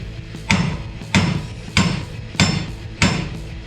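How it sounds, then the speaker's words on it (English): Hammer blows on a lower control arm stiffener being fitted to a 1966 Dodge Charger, five sharp metallic strikes at an even pace of roughly one every two-thirds of a second, loud and close. "Maybe I just need a bigger hammer."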